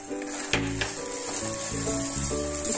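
Ginger frying in a pan while making turmeric laddu gives off a steady, moderate sizzle, joined by a faint tonal hum that shifts pitch in the background.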